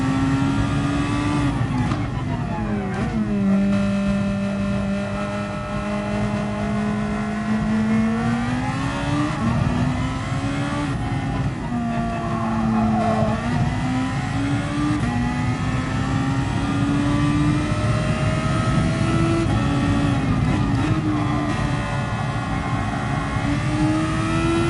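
A race car in a PS4 racing game runs in third gear through a corner, its loud engine droning steadily with rising and falling revs over about twenty-five seconds.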